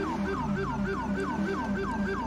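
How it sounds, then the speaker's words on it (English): An ambulance siren in Red Dead-style police mod game LSPDFR wails in a steady repeating up-down cycle, moderately loud and continuous, with no talk over it. "Let's go ahead and get out here and help that ambulance out."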